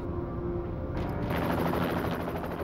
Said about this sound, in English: a chopper transported the prisoner to a secure location